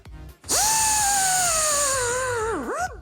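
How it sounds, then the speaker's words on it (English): A power tool cuts and grinds off the rear wiper arm of a car, a loud steady high whine that sags in pitch under load before spinning down, with no talking over it. "so you can see where I'm cutting and grinding"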